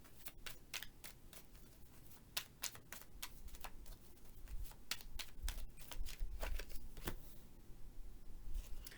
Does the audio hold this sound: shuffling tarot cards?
yes